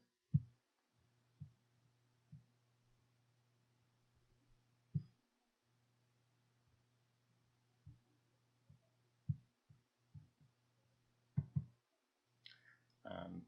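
Mouse clicks on an export button in a web application, heard as a dozen faint, sparse, sharp clicks spread unevenly over a quiet low hum, with no speech.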